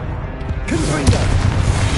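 Confringo blasting spell explosion in the video game Hogwarts Legacy, a loud booming burst with a short rumbling tail amid combat sounds.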